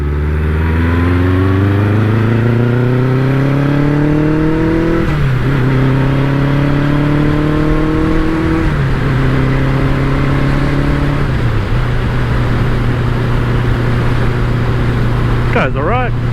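A BMW K100LT motorcycle engine revs up through the gears under brisk acceleration, its steady rising drone stepping down at each shift, loud and close throughout.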